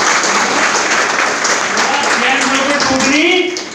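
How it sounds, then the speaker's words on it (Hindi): Loud, sustained applause from an audience at a business venue closing event, with a voice talking over the clapping in Hindi before it fades slightly at the end. "तालियां हो जाओ"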